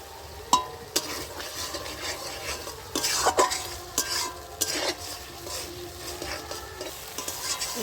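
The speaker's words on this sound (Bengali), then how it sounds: "আবারও ভালো করে আমি কষিয়ে নেব মশলাটা" Spice paste stir-fried in a pan for a cauliflower and rohu fish curry: repeated close scrapes and clinks of a spatula over a continuous light sizzle, with no voices.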